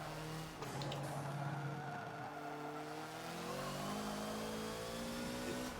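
Tires squealing from being overworked on a Hoonigan Focus around the Prague short track in Forza, a steady high-pitched screech layered over a continuous engine drone with shifting tones, loud and sustained throughout.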